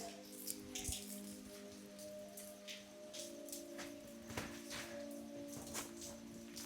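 Steady rain patters on a surface, with scattered louder drops and drips over a constant background hiss and a low hum.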